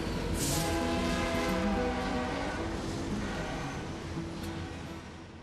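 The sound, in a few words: train passing in Flagstaff, Arizona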